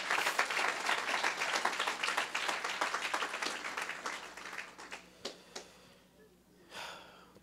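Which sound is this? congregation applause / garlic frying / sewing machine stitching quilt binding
congregation applause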